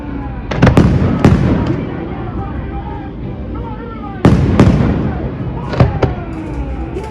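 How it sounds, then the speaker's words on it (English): Nightly fireworks over Puerto Vallarta, with two clusters of loud sharp bursts and booms, each trailing off into a crackling rumble. Faint background voices sit underneath. "we do get a fireworks show every night"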